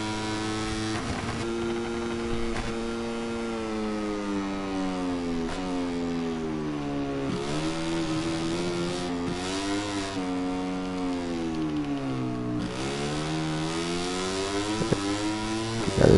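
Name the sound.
racing motorcycle on a timed lap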